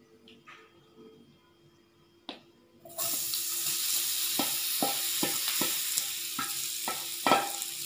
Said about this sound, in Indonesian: Kemudian kita akan tuangkan adonan ini.